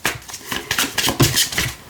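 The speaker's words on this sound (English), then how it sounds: "I tend to shuffle until I know that I need to stop" A deck of tarot cards is shuffled close by in quick, riffling bursts of papery flutter and light snaps lasting about two seconds, with no speech.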